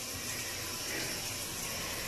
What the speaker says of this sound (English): Now I use steaming hot water and I rinse it down